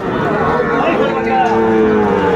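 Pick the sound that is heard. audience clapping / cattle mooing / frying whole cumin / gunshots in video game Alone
cattle mooing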